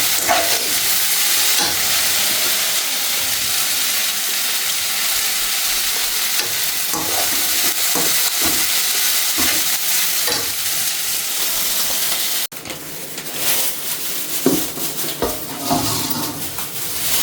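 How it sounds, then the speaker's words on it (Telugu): Onions fry for a paneer curry, a loud continuous sizzle with the scrape and clink of a spoon stirring the pan, dropping a little quieter near the end while stirring continues. "ఇప్పుడు ఈ ఉల్లిపాయలు గోలిస్తున్నాం"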